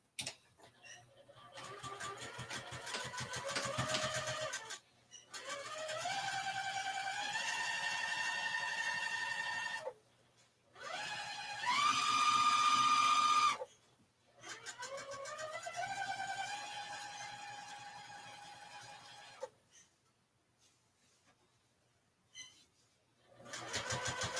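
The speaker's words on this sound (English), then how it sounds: "Now we will sew our pocket in half." A sewing machine stitches a tote bag pocket in several separate runs, each a close, loud motor whine with rapid needle chatter, broken by short silent pauses between bursts.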